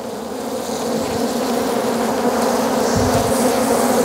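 A dense swarm of honey bees buzzing steadily and close during a transfer into a standard hive, a continuous loud drone that thickens slightly toward the end.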